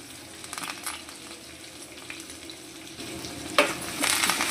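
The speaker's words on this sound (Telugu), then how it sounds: "అన్నీ వేసుకొని ఇలా వేయించుకుందాం" Chopped onions, curry leaves and cumin fry in hot oil in a pan, a quiet steady sizzle with a few louder stirring bursts near the end, no voices.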